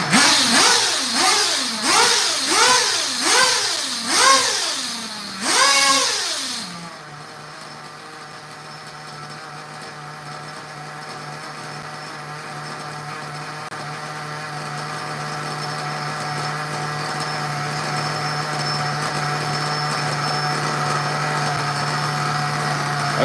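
An OS nitro engine in an RC model revs in a string of rising and falling bursts, then settles into a steady high-pitched idle that slowly builds in loudness, close up with no talking.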